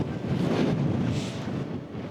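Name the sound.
strong wind on microphone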